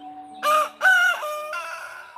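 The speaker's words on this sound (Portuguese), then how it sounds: "Cante, galo. Cante 3 vezes." A rooster crows once in a long, clear call with a rising and falling tone, heard close and alone with a faint steady hum behind it.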